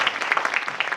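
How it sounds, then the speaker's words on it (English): A round of applause from an audience at a live storytelling show, dense and steady clapping filling a brief moment, fairly close and loud. "Give her a round of applause."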